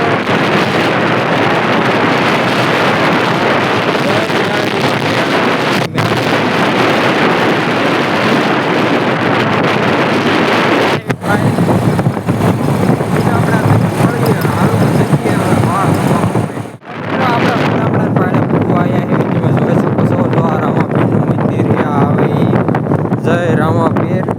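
A motorbike rides along a rural road while strong wind rushes loudly and constantly over the microphone, with a faint low engine drone buried beneath a few brief dropouts.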